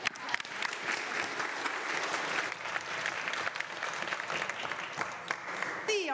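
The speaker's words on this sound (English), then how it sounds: "If everyone could give the normal welcome of claps to him, that would be great." Members of a legislative assembly clap in welcome for a guest, a dense, steady round of applause from many hands filling the chamber for about six seconds before it fades out.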